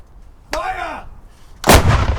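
Artillery gunfire volley on command in a short film, two loud booming shots about a second apart, the first with a ringing tail and the second a sharper, heavier blast, close with no talk.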